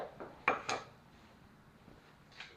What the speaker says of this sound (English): Now I'm going to cut them up.